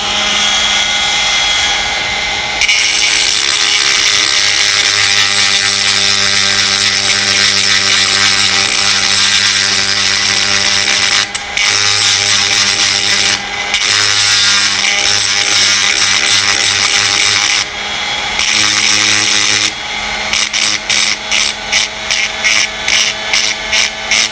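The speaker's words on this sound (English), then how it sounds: "What we're going to do is gently grind off the excess material that we've got in the slide" A power tool grinds excess material off a gun slide held in a vise, a loud continuous high whine that drops out briefly a few times and ends in stuttering pulses, with no talking.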